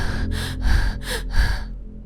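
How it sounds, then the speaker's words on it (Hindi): Heavy, rhythmic panting from someone out of breath after running, about five quick breaths, close and loud with no talking. "हाँफ रहा है।"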